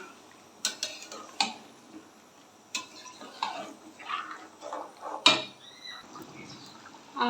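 A spoon stirs Bengali fish curry in a cooking pot, producing scattered light metallic clinks and scrapes against the pot at irregular intervals, close and fairly quiet.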